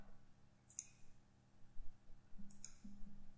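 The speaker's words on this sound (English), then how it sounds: "we'd want to press the enter on our keyboard 2 times" Two sharp, faint clicks of an enter key pressed on a computer keyboard, a single tap first and then another about two seconds later, heard close and alone against quiet room hum.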